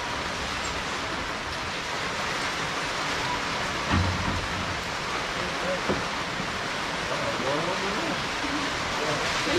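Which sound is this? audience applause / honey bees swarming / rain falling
rain falling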